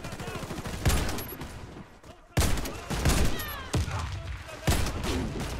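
Gunfire in the shooter game Warface, with four or five sharp, loud shots spaced about a second apart. Each shot is followed by a ringing tail, and the shots stand over a constant busy background of game sound.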